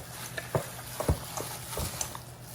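Ground turkey meatloaf mix being worked by hand with cracked eggs, giving soft wet squelches and slaps in a loose, uneven rhythm, close and fairly quiet, with no talking.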